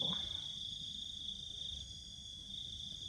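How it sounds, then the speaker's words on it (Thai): Crickets chirp in a steady high-pitched continuous trill, close and clear, over a quiet outdoor background in Kanchanaburi, Thailand. "เสียงจิ้งหรีดค่ะ"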